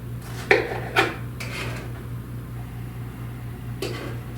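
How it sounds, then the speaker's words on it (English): A knife roughly chops tomatoes on a board for a tomato pie, making a few sparse, close knocks over a steady fan hum. "Basically tells you to roughly chop up your tomatoes"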